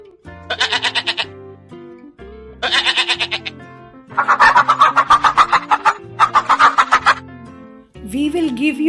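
A farm goat bleating in four loud, close bursts of quavering cries, each about a second long, with a different animal's call starting at the very end.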